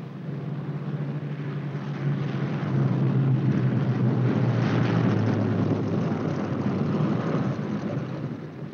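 A B-17 Flying Fortress bomber comes in to land with its left inboard engine dead, giving a steady, heavy piston-engine drone that swells a little and holds loud throughout.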